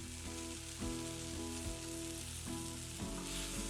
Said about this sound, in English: added the bell pepper and the mushrooms first, letting them saute for about 8 minutes, using the tiniest of skillets that I could have gone for